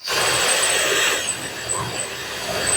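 A close, grinding rotary tool whirs against metal as a flat-ground 1/4-inch drill bit cleans out holes on a 1949 Willys pickup, a continuous rough scraping that dips and rises over a few seconds.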